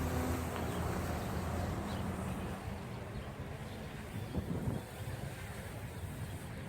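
Strong wind blowing hard outdoors near a construction yard, roaring steadily against the microphone with gusty rushes and swells throughout, no talking.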